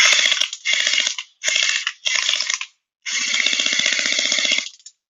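An ANSTOY M4A1 toy blaster with an XFORCE spring upgrade and an 11.1 battery fires several rapid full-auto bursts up close: four short ones, then a longer final run.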